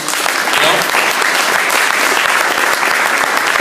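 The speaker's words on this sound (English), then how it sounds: "Let's give him a round of applause too." Audience applause fills the room at a campaign kickoff event: dense, steady clapping that stays loud and even from start to finish, with a faint murmur of the crowd beneath it.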